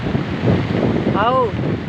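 Wind roars steadily with rain during Cyclone Gulab, a dense, gusty rush filling the whole clip close to the microphone, with a brief tonal whine partway through.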